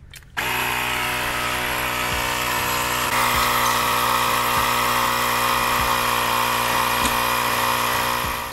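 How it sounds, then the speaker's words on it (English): Nolxon portable tire inflator running steadily as it pumps air into a bike inner tube, a loud continuous motor whir with a rhythmic pulsing thump from the piston, starting abruptly and droning on without talk. "So let's use the Nolxon first to pump up this tire."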